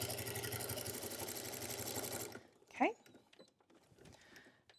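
A sewing machine runs steadily at close range while stitching a DIY bag, then stops abruptly and is followed by quiet handling sounds and faint background noise.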